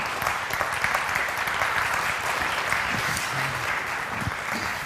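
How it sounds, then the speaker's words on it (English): Sustained applause from a conference audience giving a standing ovation to speedway figure Tony Rickardsson, dense, steady clapping throughout at a fairly even level. "Please clap your hands."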